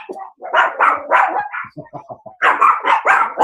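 Several dogs bark outdoors in loud, close bursts, a flurry of overlapping barks, then a few shorter yips, then another run of sharp barking.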